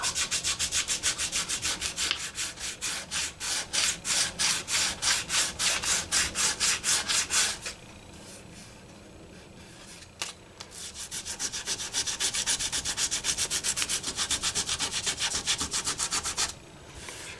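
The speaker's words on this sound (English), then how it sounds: "Alright, this is 320 grit sandpaper." 320 grit sandpaper is rubbed over the finish of a 1971 Gibson SG Custom guitar in quick, rhythmic back-and-forth strokes, close and steady. There is a short pause, then the brisk scratchy sanding starts again.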